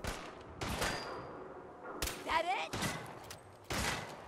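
Gunfire in Fallout 4 aimed at a booby trap: several sharp, loud shots ring out separately with short gaps between them, each with a brief echoing tail, and a voice speaks between the shots.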